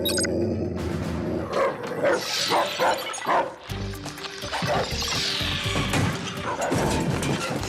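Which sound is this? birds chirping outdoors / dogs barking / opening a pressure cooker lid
dogs barking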